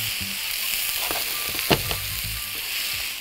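Pork pieces fry in oil in a pan, a steady close sizzle with a few sharper crackles and spatters, heard alone without any voices.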